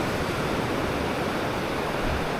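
Surf rolls in at Praia da Barra beach in Florianópolis, a loud, steady roaring wash of broken waves with no distinct single crashes and no voices.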